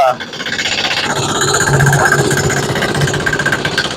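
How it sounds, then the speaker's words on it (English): A Chinese 168F single-cylinder diesel engine runs steadily on homemade diesel, giving a loud, continuous throbbing chug with rattly knock that holds without a break and sits close by. "Homemade diesel runs this diesel, no doubt about it."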